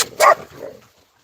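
A single sharp dog bark, close by, followed by a softer whimpering trail before quiet.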